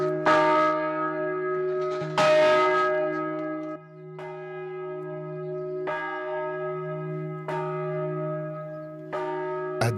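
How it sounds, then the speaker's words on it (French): A large church bell, the bell of the lost, rings on the Aubrac plateau of the Massif Central. Its deep, sustained tolls strike about every one to two seconds, each humming on with a long ringing decay, loud and clear without any voices. "la cloche des perdus agit comme un phare pour les marcheurs perdus dans l'Aubrac"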